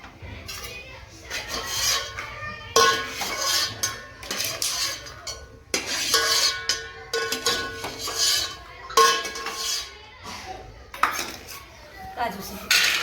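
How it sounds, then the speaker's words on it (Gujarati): Almonds roast in ghee in a metal pan while a spoon stirs them, giving repeated scraping and clinking against the pan in irregular bursts, close and fairly loud. "તો બદામને આ રીતે પેલા શેકી નાખવાની. ઘીમાં શેકી નાખવાનું."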